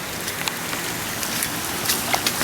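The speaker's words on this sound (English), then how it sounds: "It's raining like never before." Heavy rain pours steadily in Florida amid flooding, a dense, even hiss of drops drumming on surfaces with scattered louder splats, close and continuous with no talking.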